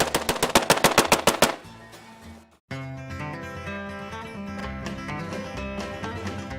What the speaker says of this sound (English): And if Wayne puts away a little too much, he might go out there and shoot his AR-15.